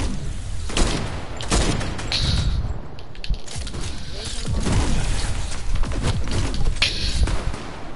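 Rapid gunfire and explosive bangs fill a shooter video game match, with repeated sharp cracks and booms over a steady din of battle. Sniping is part of the play.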